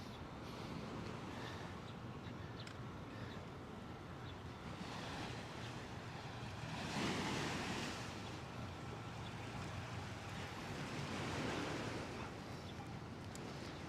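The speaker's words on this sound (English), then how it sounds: "You can hear the water rustling beneath my feet." River water laps and rustles beneath a waterfront walkway on the Hoboken and Jersey City waterfront, a steady broadband wash with wind noise buffeting the microphone and two louder surges midway and near the end.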